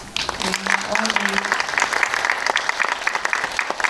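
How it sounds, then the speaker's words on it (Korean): Audience applause at a Korean film screening Q&A, a steady wash of clapping from a full hall that runs throughout, with a brief hum of voices near the start. "지금 박수는 또 이렇게 송중기 배우님뿐만이 아니라 지금 자리에 안 계신 이성균 배우님에 대한 여러분들의 또 이렇게 박수라고 생각을 하면서"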